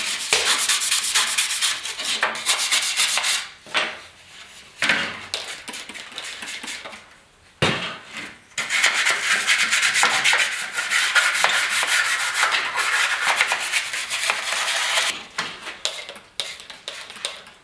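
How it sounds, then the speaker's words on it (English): Small brush scrubbing years of grime off a plastic grille from a 1972 Ford truck, with long steady bristle rubbing strokes broken by short pauses and a sharp knock, close and loud, no talking. "Got a lot of years of muck and guck on these things, so I'm just using a little brush here."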